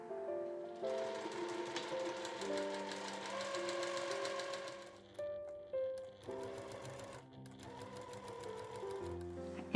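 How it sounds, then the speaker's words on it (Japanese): A sewing machine stitches the shoulder seams of a dress in quick, rhythmic bursts of mechanical whirring, stopping and restarting several times, heard close and clear. "そしたらここの両方を1センチで縫います。"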